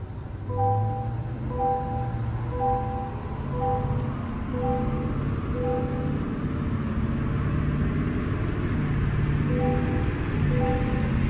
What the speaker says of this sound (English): we'll hold this truck up here at max throttle on the dyno